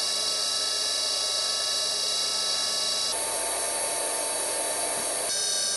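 A 2.5 kW ATC Chinese spindle runs at 3000 RPM with a steady high-pitched whine and a rich set of tones, holding an even level with a slight shift partway through, alone and without talk.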